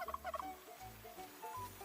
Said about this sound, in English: Why is there a chicken?